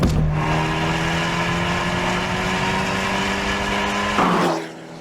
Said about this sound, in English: Abarth have given it something called the Record Monza exhaust system.